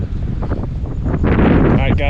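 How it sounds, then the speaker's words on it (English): Loud, steady wind buffeting the microphone while fishing under a bridge, a constant low rumble with gusty swells that grow stronger toward the end. "I know it is super windy, so you guys can probably hear that."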